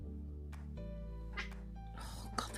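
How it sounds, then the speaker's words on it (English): Cats fight indoors, with drawn-out yowling caterwauls and a few sharp bursts of hissing and scuffling, heard over a steady background hum at a moderate distance. "Oh god, the cats are fighting again."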